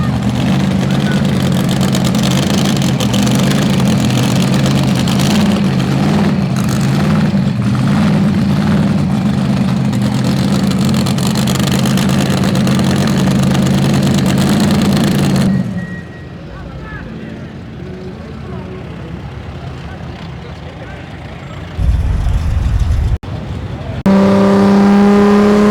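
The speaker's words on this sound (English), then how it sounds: "Starting that old dragster." An old dragster engine at a Wentzville rod run roars loudly with a steady, heavy rumbling drone for about fifteen seconds, then cuts off, leaving outdoor crowd ambience and a few short engine bursts near the end.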